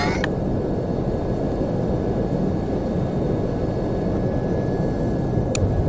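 In the spy video game No One Lives Forever, an airplane cabin in flight carries a constant low engine drone and rumble, steady and unbroken throughout, with a faint click near the start and end.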